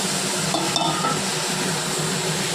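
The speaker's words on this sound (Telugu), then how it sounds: "సో ఇప్పుడు చికెన్ వేసుకుంటున్నాం గైస్. మేము చికెన్ వేసుకున్నాం ఇప్పుడు" Chicken pieces frying with masala in a pan, a dense steady sizzle up close with a few soft clinks of a spoon against the pan and no talking.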